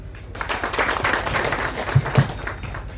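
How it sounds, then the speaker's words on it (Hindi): Loud applause from an audience at a block committee meeting, welcoming a speaker to the stage, with dense clapping sustained throughout and a couple of sharper claps standing out near the end. "सर के लिए जोरदार ताली।"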